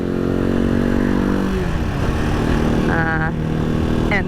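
Riding a Halcyon 250 motorcycle through a small Vermont town, the engine drones steadily and loudly throughout, with a shift in pitch as the rider changes speed.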